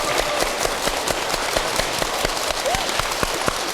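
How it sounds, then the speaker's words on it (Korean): Audience applause fills a talk-show style dharma Q&A hall with a monk, dense steady clapping throughout at fairly loud level, many hands together without pause. "박수 한번 주십시오."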